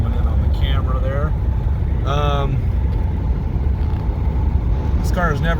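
A 1979 Lincoln Continental on new tires cruises at about 70, heard from inside the cabin as a steady, loud low road-and-engine rumble, with brief bits of talking over it.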